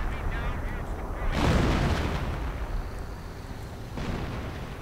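Artillery shells a bunker in a World War II real-time strategy game, with a sustained rumble and one heavy booming blast swelling near the middle and a softer second impact later, under a continuous battle din.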